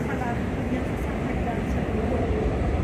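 A Sydney T1 train rumbles at Richmond station, a steady low mechanical drone and wheel noise filling the platform throughout.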